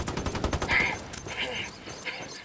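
Rapid video game gunfire crackles through a busy battle mix, with repeated shots and bursts layered over other game effects at moderate loudness.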